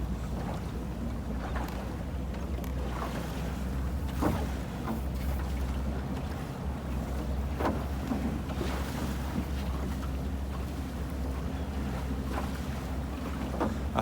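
A beach fishing boat's engine drones steadily at a constant pace at about 6 knots under wind and sea noise, with occasional thumps from the hull, and no voices.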